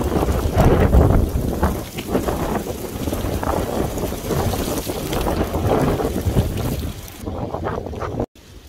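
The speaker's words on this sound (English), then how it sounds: "It is so windy." Strong wind buffets the microphone in loud, rumbling gusts, roaring steadily before cutting off abruptly near the end.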